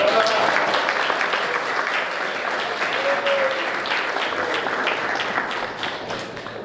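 Loud, dense applause from a convention crowd greeting a team of council candidates, sustained and even for several seconds with only a slight fade at the end.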